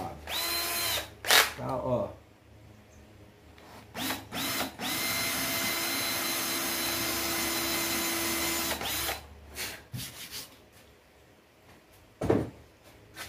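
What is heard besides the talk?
power drill drilling a hole for a keychain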